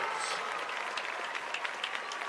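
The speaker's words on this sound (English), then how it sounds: "Ladies and gentlemen, a big round of applause for your 2023 homecoming corps." Crowd applause for the 2023 homecoming court at a high school football game, a faint, distant, diffuse clapping in an open stadium with a few sharper claps standing out.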